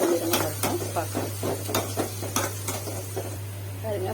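Cleaned dried fish frying in a pan for a fish-and-egg curry, a steady low sizzle under repeated scraping and clinking stir strokes of a utensil against the pan, close and fairly loud, with no talking.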